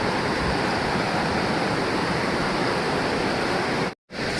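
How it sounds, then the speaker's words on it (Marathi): Vyaghreshwar waterfall at Manche in Devgad, a drop of about 300 metres, roars as a loud, steady wash of close water noise that cuts out briefly near the end. "हा तुम्ही आवाज बघते ना तो पूर्णपणे व्याघ्रेश्वर धबधब्याचाच आहे"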